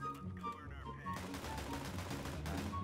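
Rapid gunfire in CS:GO, with a dense stream of shots filling the clip and a brief in-game voice or effect near the start; loud and continuous.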